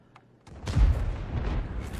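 In a tank battle video game, the FV4005 tank destroyer's big gun goes off in one heavy, booming blast that rumbles and rolls on for over a second after a faint click and thump.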